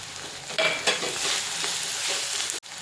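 Chopped capsicum goes into a hot pan of street-style egg bhurji, giving a steady, close sizzle and fry with stirring scrapes throughout, then a brief drop near the end.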